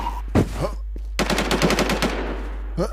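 Rapid bursts of automatic gunfire in the video game Infestation SEA, a short opening shot followed by a longer rattling volley, loud and close, with a final single shot.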